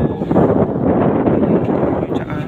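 Heavy wind roars steadily, blending with a dense wash of rain noise, loud and close throughout with no pauses.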